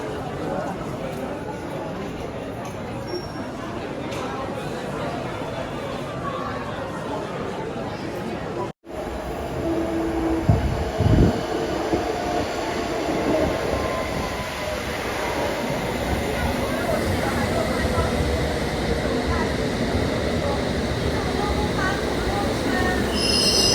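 A train rolls past with rumbling wheels and high squealing from the rails, loud and continuous, with a brief dropout partway through and faint background chatter.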